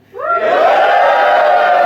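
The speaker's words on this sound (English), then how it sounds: "I think I can hear them cheering." A loud, close crowd erupts into sustained cheering and shouting that swells quickly and holds steady without letting up.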